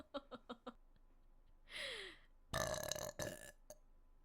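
A woman burps loudly and at length up close, with a couple of drawn-out belches after a few brief taps and a breathy sound.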